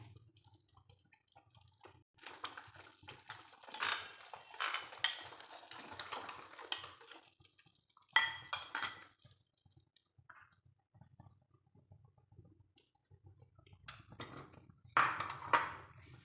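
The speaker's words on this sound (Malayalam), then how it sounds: "ഇനി നമ്മൾ ഇതിനകത്തേക്ക് ആ കലക്കി വെച്ചിരിക്കുന്ന കോൺഫ്ലവറോട് ചേർക്കാൻ പോവുകയാണ്" Dissolved cornflour being poured and mixed into papaya halwa in a cooking pan: soft liquid pours, close pings and clinks of a utensil against metal, and scraping in intermittent bursts with quiet gaps between.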